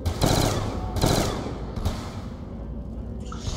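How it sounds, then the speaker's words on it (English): Python revolver fire in Call of Duty Black Ops 2 Zombies, two loud, close gunshot bursts in quick succession, followed by a fainter shot and a lingering booming tail of game background noise. "I'm just shooting my Python."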